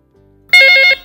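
An intercom telephone on a PABX system rings once, a short electronic trill of rapid pulses lasting under half a second, loud and close after brief quiet.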